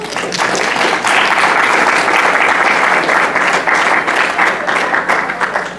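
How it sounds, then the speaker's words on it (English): Steady applause from a conference session audience rises quickly and holds for several seconds as a dense wash of clapping with no talk over it. "Round of applause"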